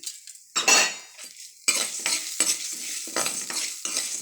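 A spatula clatters and scrapes against a pan as spices with fenugreek are fried and stirred, irregular metallic knocks and scuffs over a soft sizzle, close and fairly quiet.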